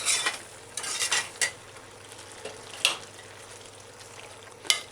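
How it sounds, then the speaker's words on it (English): A spoon stirs a coconut milk mixture with noodles for a chicken corn coconut manicotti salad in a pan, giving soft scraping swishes with a few sharper utensil scrapes, close and fairly quiet over a light sizzle. "So you just stir it like this until it almost starts sticking"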